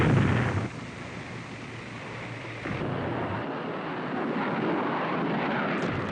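Military aircraft attacking transportation targets during the Vietnam War, a steady rumbling roar in old archival film, with dull booms and a noisy, hissy background and no talk.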